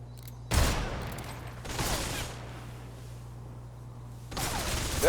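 Boss gunfire in the video game Metal Gear Solid Delta: Snake Eater: loud bursts of rapid automatic shots, three separate volleys with short quiet gaps between them over a low steady hum.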